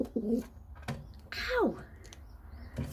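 A single descending, throaty call from a racing pigeon cock bird, close by, framed by a few short knocks and handling noises.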